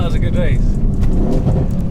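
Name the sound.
sports cars accelerating in drag race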